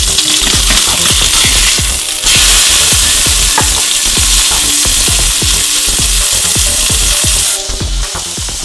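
Burger patty sizzling loudly on a hot surface after a flip, a dense continuous crackle close up with a regular series of low thumps and scraping knocks, no talk.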